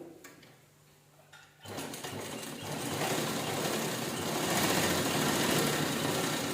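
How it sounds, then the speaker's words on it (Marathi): An electric sewing machine stitches fabric for a phone-charging holder. After a quiet start it whirs into a fast, continuous mechanical hum up close that gets slightly louder and keeps running steadily. "जसं ह्या साईडला आपण स्टिच केलं तसं ह्या साईडला स्टिच करू"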